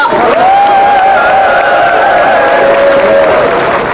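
A crowd at an outdoor election campaign rally applauds loudly and continuously, the clapping and cheering blending into a dense wash with a sustained tonal whistle-like sound riding above it.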